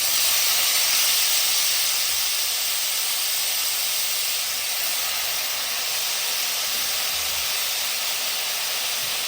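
Chopped spring onion greens hit hot oil with fried masala, giving a loud, steady, close sizzle and hiss that holds without a break.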